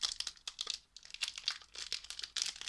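Someone tears and crinkles open the foil wrapper of a Magic card pack, producing a close, quiet run of rapid crackling and crumpling bursts with no speech.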